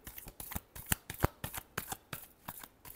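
Tarot cards are shuffled by hand in rapid, crisp riffling bursts, about a dozen quick flutters close to the ear with no one talking.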